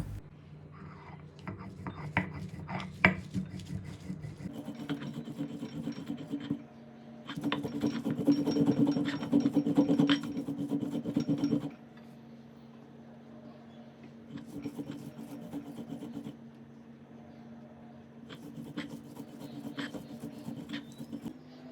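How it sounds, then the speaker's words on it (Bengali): Taro flowers, stalks and fried dried chillies ground into paste on a stone grinding slab, a rhythmic rasping scrape in repeated strokes, loud bursts alternating with quieter passes, with a soft background tone. "আগে থেকে ভেজে রাখা শুকনো লঙ্কাটিও এর সঙ্গে বেটে নেব।"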